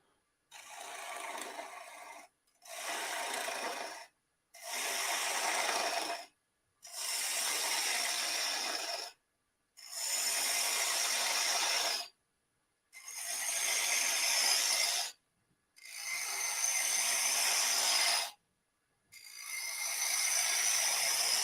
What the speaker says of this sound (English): Just a simple bowl gouge.